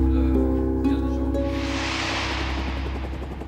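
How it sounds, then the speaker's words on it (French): Police helicopter on a prevention patrol flight over a Belgian town, its engine and rotors whining steadily, with a broad airy rush building up partway through. "Le TFO Dave et le pilote Dirk sont partis en vol de prévention au-dessus de la ville de Hatt."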